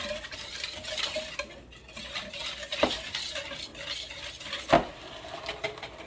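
Utensil scraping and stirring through a mixture in a bowl while preparing leche frita, soft and continuous with a couple of louder clinks against the side, close up with no talking.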